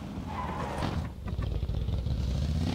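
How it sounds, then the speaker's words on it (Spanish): A motorcycle engine in the battle royale game PlayerUnknown's Battlegrounds runs as a steady, fairly loud drone that holds through the whole stretch, with no talking over it. "No, flashé que era alguien y era esa moto"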